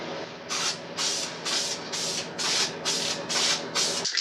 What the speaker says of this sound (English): So this is the last bit of Spray Max Clear